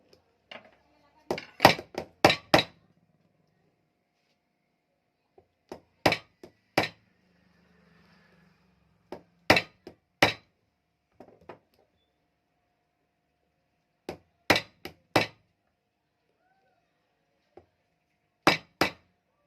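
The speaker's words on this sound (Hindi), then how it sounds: "यहाँ पर हमने प्लास और एक हथौड़ी का प्रयोग में लिया है। इस तरीके से इसे ठोकेंगे, इस तरीके से।" Metal hammer driving a bearing into place with pliers holding it: sharp ringing metallic clinks in quick groups of two to four strikes, separated by pauses, close and clear with no talk over them.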